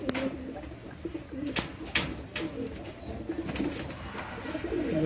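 Pakistani Teddy pigeons coo in repeated low, throaty rolls close by, with faint clicks and shuffling in the loft and a steady murmur of background noise.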